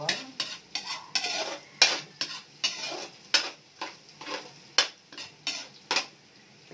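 Garlic with ginger stirred in a pan until golden brown for beef broccoli, a close, regular series of scraping strokes about twice a second, with clinking utensil hits and a soft sizzle underneath, no talk.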